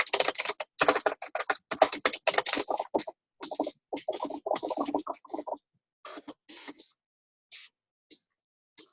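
A name is typed on a computer keyboard in a quiet room, with rapid bursts of crisp key clicks that slow to a few scattered taps and stop, close and clear.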